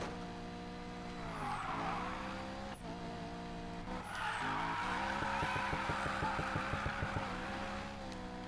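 A car drifts in Need for Speed Payback, its engine droning loud and steady while the tires squeal and skid continuously throughout, with a rougher, gritty burst of revving near the end.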